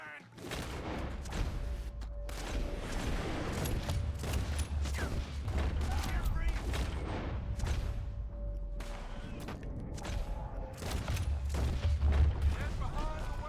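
Gunfire in a Red Dead Redemption 2 wagon shootout, a steady barrage of shots and booms at middling loudness with game sounds continuing throughout.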